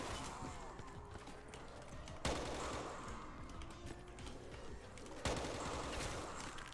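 Gunfire rattles quietly in Call of Duty Black Ops 3 custom zombies play, a continuous stream of rapid shots with two sharper, louder bursts standing out, heard alone without talk.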